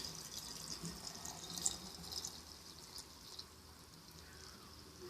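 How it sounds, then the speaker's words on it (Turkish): Water trickles and pours quietly into a jar of hawthorn fruit and rock salt for homemade vinegar, a faint steady splashing with a few drips, recorded close in a kitchen. "suyumuzu ekliyoruz"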